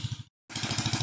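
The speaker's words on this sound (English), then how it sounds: "That would be his go-kart, if you can hear it." A go-kart engine runs with a rough, rapid pulsing chug, loud and close, cutting out briefly for a moment of silence before returning with the same steady rhythmic throb.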